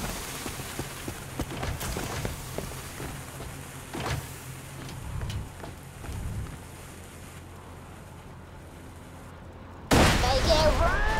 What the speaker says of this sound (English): Put the rest of Tina's explosives on those safes and watch the fireworks.